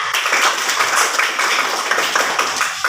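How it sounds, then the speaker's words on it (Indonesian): Pupils in a classroom give a steady, dense round of clapping for a group of classmates, loud and close, with no talking over it. "tepuk tangan dulu untuk kelompok 3"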